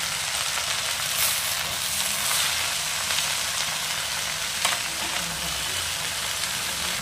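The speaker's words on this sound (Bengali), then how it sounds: "তো এইবার সোনা পাতাটা ভাজা হবে কড়াইয়ের মধ্যে।" Leaves fry in oil in a kadai wok in a village kitchen, producing a continuous even hiss and sizzle at close range with only faint crackles and no voices.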